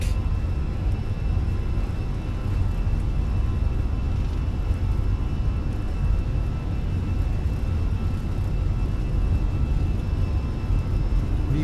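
Fenix Airbus A320 jet engines in Microsoft Flight Simulator roaring steadily through the takeoff roll, a constant loud rumble and whir with no talk over it.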